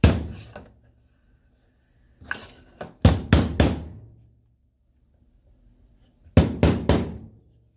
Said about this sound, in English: hit these staples down